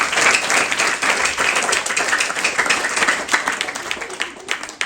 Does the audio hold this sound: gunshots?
no